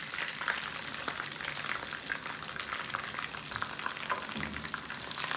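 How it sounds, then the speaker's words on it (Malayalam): A crushed ginger and garlic mix sizzles steadily in hot oil in a pan while being sautéed for a Kerala mango pickle, a close, continuous frying hiss with no talking. "ഇതിൻ്റെ ആ ഒരു പച്ചമണം മാറുന്ന വരെ ഒന്ന് വഴറ്റിയെടുക്കാം"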